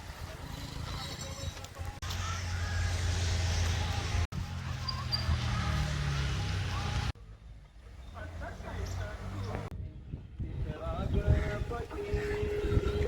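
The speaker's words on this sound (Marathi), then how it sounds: "मस्त आता थंड वारा सुटला आहे. बघू शकता बघा झाडं किती हलतात, वारा आणि वादळ पण आहे तसं." Cool wind gusting through swaying trees during a stormy spell on a Konkan coast ride, heard as loud buffeting rumble against the microphone that drops and returns, with a voice talking over it.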